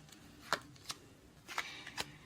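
Tarot cards being shuffled during a love reading, a few separate crisp riffling snaps spaced about half a second apart, quiet and close with no voices.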